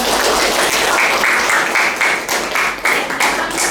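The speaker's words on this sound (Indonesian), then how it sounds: "tepuk tangan dulu untuk kelompok 2" Students clap for a presenting group during a university classroom session, a dense, continuous burst of applause with a few sharper individual claps standing out.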